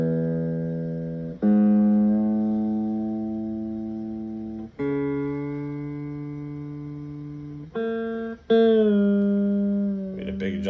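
An electric guitar with a new DGN pickguard is tuned string by string: single plucked notes ring out and slowly decay, each followed by a fresh pluck at a shifting pitch, loud and close with no talking.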